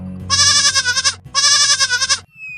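Two long, wavering goat bleats ring out close and loud, one after the other with a short gap, each rich and nasal, followed by a faint tail of background noise.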